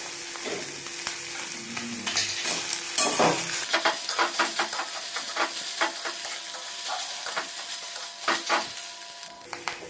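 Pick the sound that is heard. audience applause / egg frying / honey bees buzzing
egg frying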